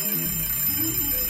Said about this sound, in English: that's the alarm that says we're running way too long